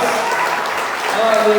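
A church congregation claps during an Easter Sunday service, a brief burst of applause mixed with voices and a tonal background from the hall.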